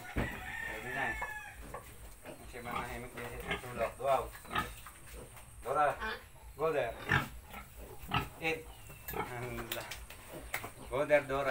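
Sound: Duroc pig grunting

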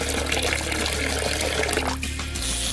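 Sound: water being added to sliced craft material

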